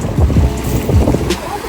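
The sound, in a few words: strong sea waves at a beach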